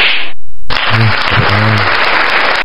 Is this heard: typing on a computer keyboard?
no